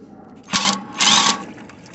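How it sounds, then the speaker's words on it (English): Hart cordless impact wrench from a budget tool test, heard in two short, loud buzzing bursts of whirring and rattling hammering, the first about a quarter second and the second longer, with quiet outdoor background between. "We're gonna try out the Hart impact wrench."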